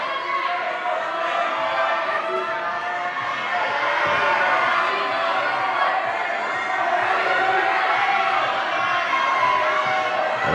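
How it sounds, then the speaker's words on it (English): A crowd at a youth bouldering final in Kaunas cheers and applauds with sustained, dense noise, loud and continuous throughout, with energetic swells of voices. "lots of energy and applause goes from the audience here"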